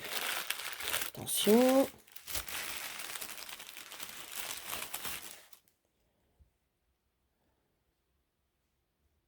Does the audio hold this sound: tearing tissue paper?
yes